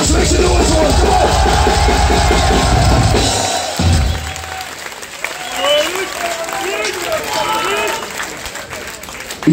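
A club crowd at a live death metal concert in Athens cheers, whistles and applauds loudly. Heavy band sound fades out partway through and the clapping and shouting carry on alone.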